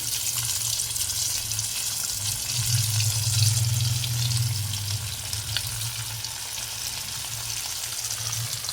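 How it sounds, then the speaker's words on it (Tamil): Fish coated in rice flour and chili sizzles in hot oil, a continuous close crackling hiss with a low bubbling undertone that swells briefly, then settles into steady frying. "அடுத்து எண்ணெயில் போட்டு எடுக்க போகிறேன்."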